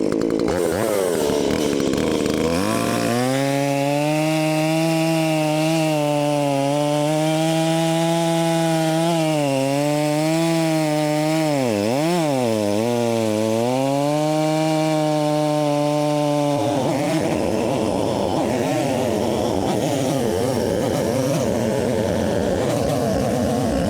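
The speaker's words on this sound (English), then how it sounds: "I have my MS 170. I know it needs to be sharpened, so we'll use that to cut through all this" A Stihl MS 170 chainsaw with a dull chain cuts through wood, a loud sustained buzzing whine that dips and recovers in pitch as it bites, then stops, leaving quieter outdoor noise.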